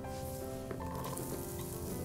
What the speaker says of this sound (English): our butter is about melted. It's starting to sizzle, so we can add our peppers and our onions.